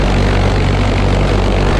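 A propeller airplane engine roars loud and constant during a run-up and warm-up on the ground, a dense steady drone with no speech over it.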